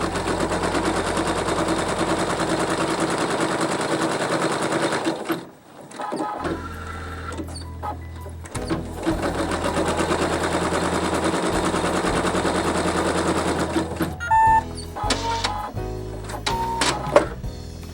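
An embroidery machine stitches on stabilizer in a hoop with a rapid, loud mechanical rattle in long runs, pausing briefly in the middle and breaking into shorter bursts and clicks near the end.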